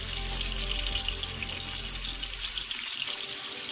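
Fish frying on a tawa in a dhaba-style fry, a steady loud sizzle and crackle of hot oil that continues without pause and eases off slightly near the end.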